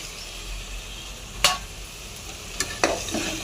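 Chicken legs go into spiced masala in hot oil, giving a steady sizzle and frying hiss with a few sharp scrapes and clinks of a spatula stirring against the pan.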